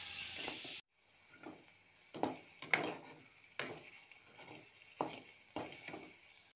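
Carrot and peas cook in a pan for a noodle dish made from maida, with a soft sizzle broken by about six stirring scrapes at a steady rhythm, close by and fairly quiet.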